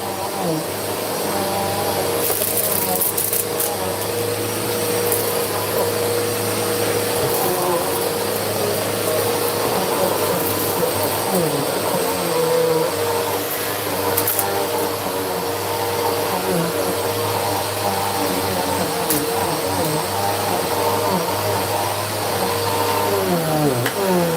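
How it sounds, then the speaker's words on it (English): A new vacuum cleaner drones continuously close by, a loud steady motor hum with slight shifts in tone as it is pushed around, no pauses. "God, I love this new vacuum."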